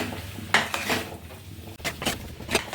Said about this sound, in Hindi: कम से कम 5 से 6 मिनट आलू को अच्छे से भूनना है हमें। बीच बीच में इसे चलाते रहेंगे और भूनते रहेंगे।